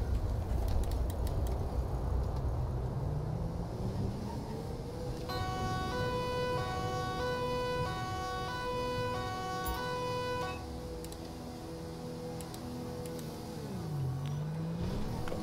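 An electronic ambulance siren in GTA 5 wails with rising and falling tones, loud and close, over a steady engine rumble, then sweeps down and fades.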